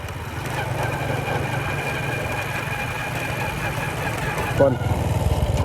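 Steady engine drone, most likely a motorcycle idling near a village road in Laos, continuous and fairly loud with a brief knock near the end, voices faintly mixed in.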